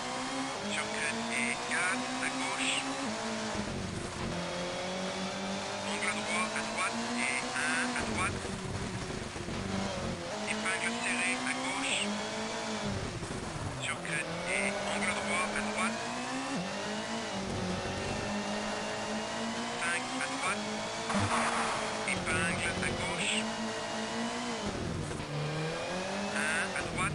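Rally car in Colin McRae Rally on a United Kingdom stage, engine revving hard and rising and falling through gear changes, with brief tyre noise on corners, continuous and loud while someone talks over it throughout.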